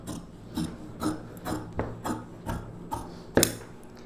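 Scissors cut through blouse fabric along a necklace-neck line in a steady series of crisp, rasping snips, about two per second, close and fairly loud, with one sharper snip near the end.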